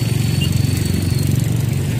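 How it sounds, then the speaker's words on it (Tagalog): Jeepney ride in the Philippines: a steady, loud engine drone with a pulsing low rumble and faint high squeal, continuous and close, with no talk over it. "Sakay na po kami ng jeep."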